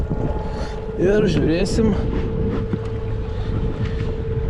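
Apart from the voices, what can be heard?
fishing boat running on its motor across a lake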